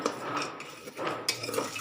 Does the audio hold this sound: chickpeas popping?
yes